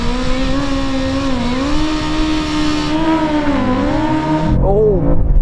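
A BMW M5 CS drag racing a BMW M motorcycle gives a loud, sustained engine roar whose pitch rises and falls through gear changes, then cuts off abruptly near the end. No one speaks.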